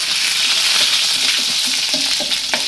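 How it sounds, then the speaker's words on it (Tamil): Fenugreek, mustard seeds, dried red chillies and curry leaves fry in hot oil for garlic tokku, a loud, close, continuous sizzle with scattered pops and crackles and no talking. "முதல்ல எண்ணெய் சுட்டுன்னு வெந்தயம் போட்டுருங்க. கடுகு, வரமிளகா, கருவேப்பிலை எல்லாம் போட்டுருங்க."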